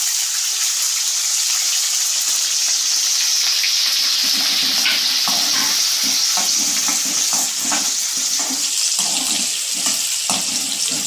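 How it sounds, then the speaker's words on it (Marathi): Onion tossed into hot oil with already-fried garlic for an eggplant bhaji sizzles loudly and continuously, with a dense hiss and irregular stirring clatter building after the first few seconds, no voices. "कांदा चांगला भाजून घेऊया"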